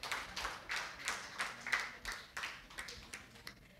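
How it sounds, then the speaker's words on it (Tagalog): A church congregation at a Filipino service claps in a rhythmic, even beat, fairly quiet and a little distant, with each clap landing at a regular pace. "Pumalakpak ngayon ang mga Kristiyano."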